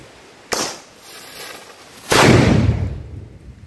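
A homemade gunpowder gun fired with a percussion cap at a São João festival in northeastern Brazil: a sharp crack of the cap, then after a pause a loud booming blast that rolls away into a fading rumble, close by.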